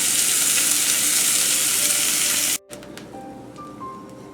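Steaks searing in a hot pan give a loud, dense, steady sizzle that cuts off abruptly partway through, leaving faint clinks and a quiet hum.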